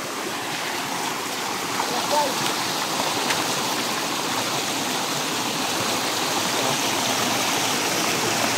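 Forest stream at the water source in Sitio Amaling: steady, close rushing and gurgling water filling the whole stretch without a break, with no clear talk over it.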